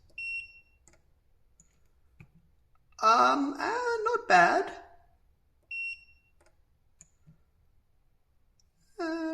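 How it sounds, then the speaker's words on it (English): A GreatScott! spot welder gives two short, high-pitched beeps a few seconds apart, with a person speaking briefly between them in a quiet room. "So it says it beeps when you do this."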